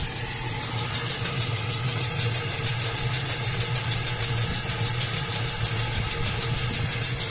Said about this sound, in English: I still have the blower on to build the heat up faster.